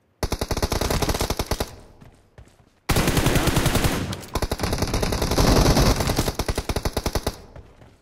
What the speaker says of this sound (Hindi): इसमें गन साउंड भी इनहेंस हो गया है